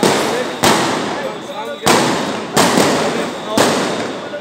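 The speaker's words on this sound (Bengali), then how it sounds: "আমরা দেখতে পাচ্ছি সাউন্ড গ্রেনেডের শব্দ শোনা যাচ্ছে" Sound grenades go off at a street protest near a ministry, four sharp loud blasts spaced about a second apart, each followed by a lingering roar of crowd noise and echo.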